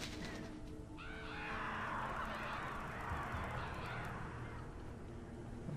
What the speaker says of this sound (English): Some aggressive crows or ravens, whatever they are.